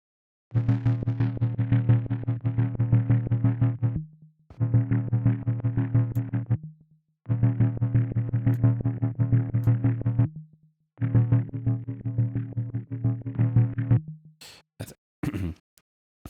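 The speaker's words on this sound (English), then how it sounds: "I'd want to get rid of all this super high noise crap." A distorted synth plays four long buzzing notes with short gaps, a thin layer of harsh noise running over the top, then a few sharp clicks at the end.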